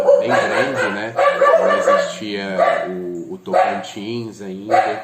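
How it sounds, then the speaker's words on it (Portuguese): Dogs bark at home behind a person lecturing, with yips and barks mixed under steady close talk. "Desculpa o barulho aqui, os cachorros latem"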